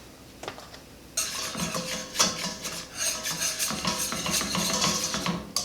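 A spoon stirring mac and cheese in a pot, with scraping and rubbing against the pot in close, steady strokes that grow louder after a quiet start.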